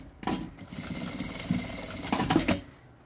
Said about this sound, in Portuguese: passar uma costura aqui com um pé de máquina